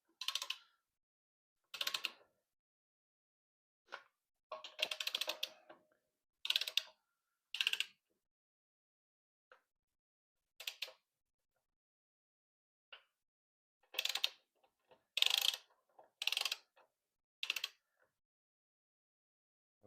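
Wrench tightening a locking wheel nut on a car's rear wheel, a series of sparse, quiet ratcheting clicks in short bursts separated by silence.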